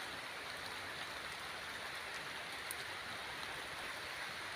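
Steady rain hissing continuously, a dense even wash of drops with no breaks and no voices.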